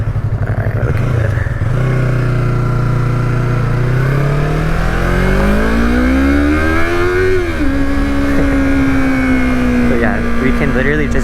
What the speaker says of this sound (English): We can literally just rev the snot out of this bike, and it loves it.